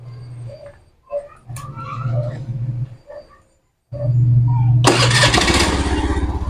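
Honda Zoomer X scooter cranked with its electric starter: a few whirring starter attempts separated by pauses, then the engine catches and settles into a loud, steady close-up idle.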